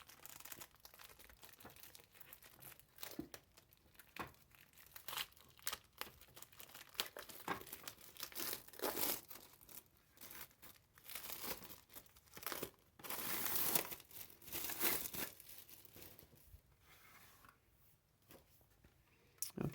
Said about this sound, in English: Let's remove the plastic foil and take a better look at the device.